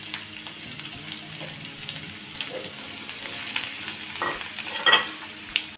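Thinly sliced onion pieces frying in two spoons of oil in a flat pan, with a steady close sizzle and spatula scrapes that grow louder with a few sharper clinks toward the end.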